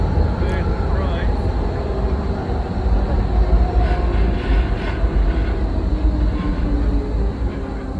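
A train rumbles past in Berlin, a loud, continuous low roar with rattling wheel noise close by and faint voices underneath.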